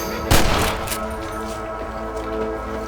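Gunfire in Red Dead Redemption as John Marston shoots rabbits: a loud close shot with a sharp crack, then quieter follow-up reports ringing out over a steady background ambience.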